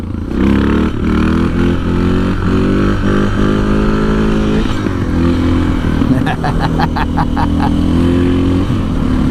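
A Suzuki DR650 motorcycle, modified with a gearing ratio change, accelerates in second gear on a road toward the Rockies, its engine note loud and close as it revs steadily upward, with wind rush and a brief rattling clatter partway through.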